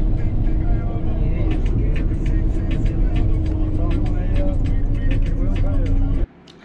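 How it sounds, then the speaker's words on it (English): Engine rumble and traffic noise fill a bus terminal in Albania, a steady heavy drone with vehicles moving nearby and someone talking over it, cutting off abruptly near the end. "I think I found the bus terminal"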